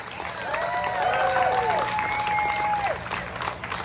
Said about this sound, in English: So a round of applause for United Voices of Kansas and Kansans for Health Freedom.